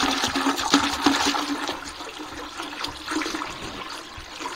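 Water poured into a poultry drinker on a small home farm with laying hens, a steady splashing, gurgling pour running continuously and close by with no talk.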